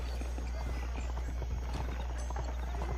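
Horse hooves clip-clop steadily in a Red Dead Redemption game scene, a rhythmic clatter under a low rumbling background, with talk over it.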